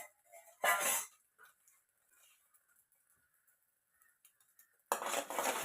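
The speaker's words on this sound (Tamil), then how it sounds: "இந்த முட்டையை நல்லா பீட் பண்ணி எடுத்துக்கலாம்" Eggs seasoned with a pinch of salt and pepper are beaten in a bowl, producing two short bursts of quick clinking and stirring, with quiet pauses and faint kitchen noises between them.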